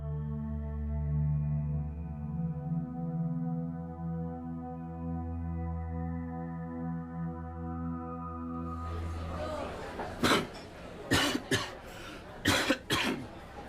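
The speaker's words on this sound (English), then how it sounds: "With every cough and sneeze, he's firing out germs." A low steady hum fills the first part, then a man with a cold coughs sharply several times in short bursts, fairly close and loud.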